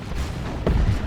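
Lascannon fire booms once in the Dawn of War 2 video game during an Orks versus Chaos Space Marines battle, a single heavy low blast rising over a rumbling ambient bed.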